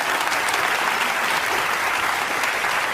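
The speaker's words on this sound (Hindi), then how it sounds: "एक बार ताली बजा के मुझे आदेशित कर दीजिए।" Loud, dense applause from the audience at a Hindi comic poetry gathering, a continuous roar of many hands clapping together for the whole stretch without a break.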